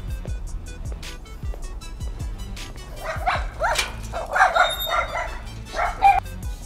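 Dogs bark outdoors while running, several short sharp barks and yips at mid distance, irregular and fairly loud, with a car faintly passing and light background noise.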